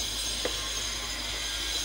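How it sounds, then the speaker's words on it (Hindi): A kitchen blender whirs steadily as it purees three mangoes for homemade juice, a continuous, fairly quiet motor hum with hiss and no talk. "अब इसे हम ब्लेंड कर लेंगे।"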